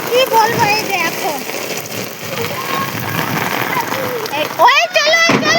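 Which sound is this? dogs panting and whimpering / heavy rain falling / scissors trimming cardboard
heavy rain falling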